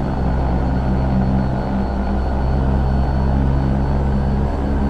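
Propeller drone of an EMB-110 turboprop aircraft taxiing slowly in the X-Plane 11 flight simulator, a steady loud engine hum with a constant tone that holds throughout with no voices.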